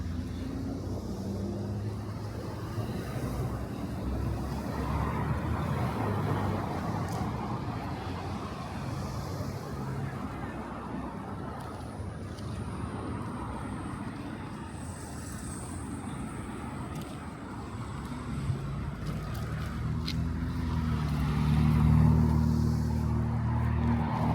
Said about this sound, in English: There's a line of cars here.